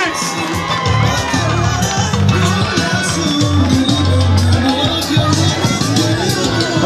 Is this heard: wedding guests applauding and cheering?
yes